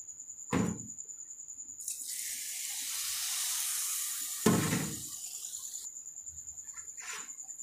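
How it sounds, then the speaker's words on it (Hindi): Water poured onto sugar in a pan for rasgulla syrup, a soft steady hissing pour lasting a few seconds between a couple of light knocks, close and quiet with no talk. "अब इसमें हम शुगर डालते हैं और पानी ऐड करते हैं"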